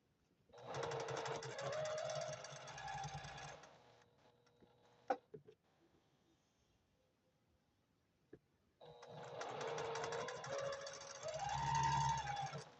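A sewing machine stitching quilt squares in chain piecing, running in two loud, steady whirring bursts separated by a quiet pause with a few clicks of fabric handling.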